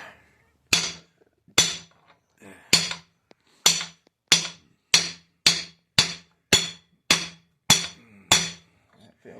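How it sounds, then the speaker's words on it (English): An old claw hammer strikes repeatedly while installing a Jesel timing belt drive on an engine: about a dozen sharp, loud metallic blows, irregular at first, then a quicker, steady rhythm, with nothing else heard between them. "Use the old claw hammer."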